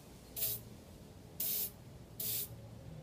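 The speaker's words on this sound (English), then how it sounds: "I give them a spray of gun cleaner, and I give them a couple of sprays in each barrel" Gun cleaner is sprayed into the barrels of a Beretta shotgun in three short, close hissing bursts separated by brief quiet gaps.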